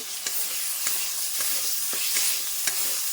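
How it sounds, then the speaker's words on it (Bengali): Ginger and cumin paste with turmeric and salt sauté in hot oil in a pan, a dense steady sizzle broken by several soft scraping stirs at regular intervals. "মশলাটা ভালো করে কষিয়ে নেব"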